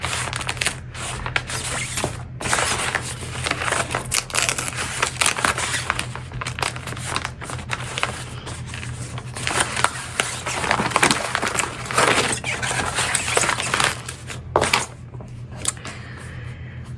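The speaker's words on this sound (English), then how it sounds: "pop it out of the hoop and gently tear away the stabilizer" Tear-away embroidery stabilizer being pulled off an in-the-hoop machine-embroidered key fob, heard as close, repeated papery crinkling and ripping in short bursts over a low steady hum.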